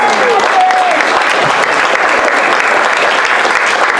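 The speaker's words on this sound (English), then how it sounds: "Give him a round of applause." Loud, sustained round of applause from the audience at an improv comedy show, dense continuous clapping throughout with a few brief whoops or whistles near the start.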